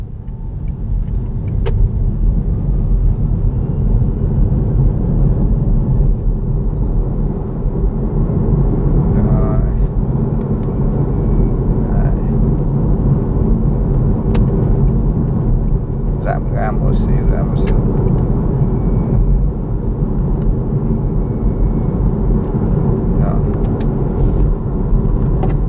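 A VinFast VF e34 electric car drives on cruise control, heard from inside the cabin as a steady, loud, low road and tyre rumble that holds constant throughout, with occasional brief clicks and a person talking over it.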